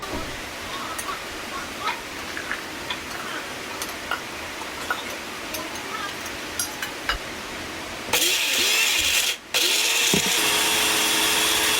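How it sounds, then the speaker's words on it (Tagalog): Quiet ticking and faint background noise give way to a loud blender whirring steadily for the last few seconds, with a brief pause midway. "meron tayong blender at ating itong i-blender."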